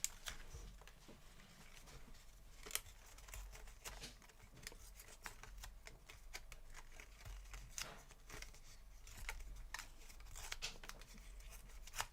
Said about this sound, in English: I'm just gonna tear the middle